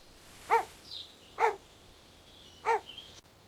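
A lost puppy gives three separate short, high whimpering cries spaced about a second apart, fairly close and clear over a quiet background with faint bird chirps between.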